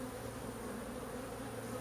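Honeybees robbing a hive in a Brazilian pepper tree, a dense steady buzzing drone of many insects close by, continuous and fairly quiet.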